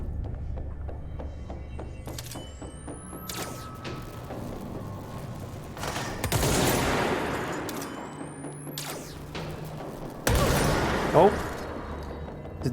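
Sniper fire in the video game Control: several sharp, loud gunshot bursts at intervals, including heavy cracks and whooshing projectile sweeps, over a low steady game ambience, with a voice talking in places.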